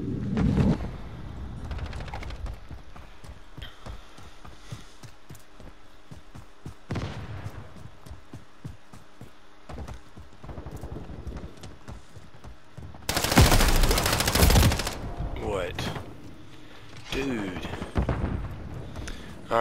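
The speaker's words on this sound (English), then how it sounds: "Shotgun to the face." Shotgun blasts and rapid gunfire from a video game, dense bursts with a loud volley in the middle, mixed with game effects and someone talking over the action.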